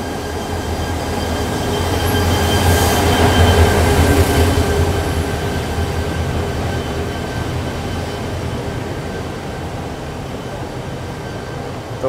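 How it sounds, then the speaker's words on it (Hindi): Overnight sleeper train standing for boarding on a jungle line through dense forest: a steady loud rumbling rail drone that swells briefly and then settles, with faint hiss throughout and no talking. "तो भाई यहाँ आज की अपनी ओवरनाइट स्लीपर ट्रेन"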